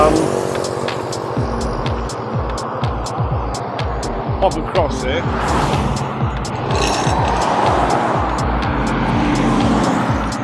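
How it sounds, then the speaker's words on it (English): Cars pass by on a road early in the morning, a continuous loud engine rumble with rising and falling swells as vehicles go by, while someone talks over the traffic. "When the cars have passed,"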